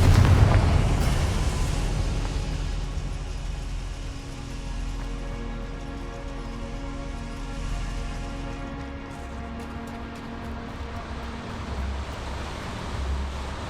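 A Confringo fire spell from Hogwarts Legacy bursts with a loud boom, then a rumbling blast slowly decays under a lingering tonal backdrop.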